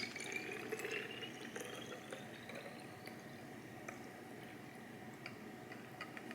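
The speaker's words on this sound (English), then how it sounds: "I'm just gonna pour it in there." Homemade lavender water being poured into a reused bottle, making a quiet, close trickle and gurgle of liquid with a few small drips, with no talking.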